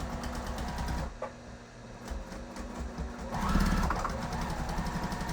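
A sewing machine back stitching fabric for a mason jar caddy, running in rapid even bursts that stop briefly and then start again close by.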